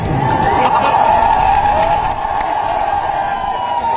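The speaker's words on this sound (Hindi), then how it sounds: "बीजेपी के सैकड़ों कार्यकर्ता हाथों में पार्टी का झंडा लेकर मोदी के नारे लगाने लगे" A large crowd of BJP workers carrying party flags at a roadside rally chants and shouts together, a loud continuous roar of massed voices.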